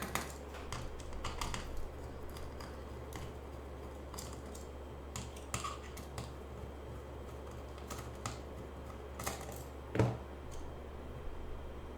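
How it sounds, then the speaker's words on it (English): A small supplied tool takes the four screws out of the back of a camera bracket: faint, scattered metallic clicks and ticks close by in a quiet room, with one sharper knock near the end. "Take out the 4 screws on the back."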